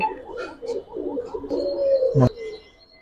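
Pigeons coo close by in a soft, repeated rolling pattern of low calls, joined by a few brief chirps and a short sharp knock near the end.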